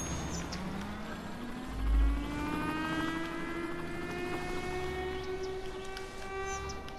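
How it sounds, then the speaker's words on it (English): A tram in the Cities: Skylines city-building game rolls along with a steady rumbling drone and a rising tonal whine, one low thump near the start. "All the trams are going back in an emergency."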